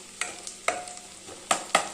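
Mustard seeds popping in hot oil beside browned onions for kuska biryani, a handful of sharp, separate crackling pops over a soft background sizzle.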